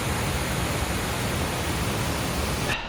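Twin Falls on the Trail of Ten Falls in Oregon pours with a steady, broad rushing hiss, even and unbroken until it cuts off at the very end.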